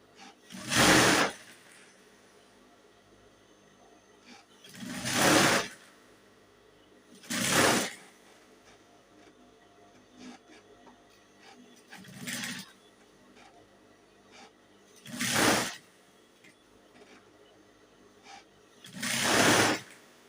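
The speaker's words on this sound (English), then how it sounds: "So I'm going to stitch now." A sewing machine stitches fabric for a blouse in six short loud bursts spaced a few seconds apart, with quiet pauses between runs.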